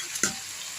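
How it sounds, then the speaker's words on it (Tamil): Beaten egg poured into beans frying in a pan with salt and a pinch of turmeric, giving one quick sharp sizzle and a brief stirring scrape before a soft steady hiss. "இப்போ அடுத்து முட்டையை ஊற்றிப்போம்."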